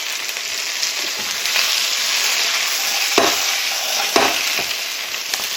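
Steady crackling sizzle of onions frying in a hot pan with browned beef, with a few louder pops and stirring scrapes, close and continuous, no talking.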